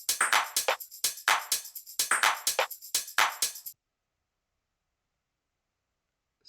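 Programmed 90s house drum break with tambourine, punchy hits in a syncopated pattern for about four seconds, then silence.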